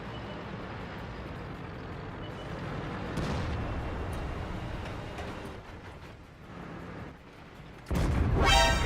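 A tank cannon fires in the World of Tanks video game, a single loud blast near the end over a steady rumbling engine and battle background, with no speech.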